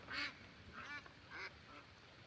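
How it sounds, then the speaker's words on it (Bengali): Ducks quacking in rain-flooded farm fields, four short loud calls in a quick, uneven series at close range, with no talk over them. "নতুন পানি পাইয়া হাঁসে কি পর্যন্ত আনন্দ কররা।"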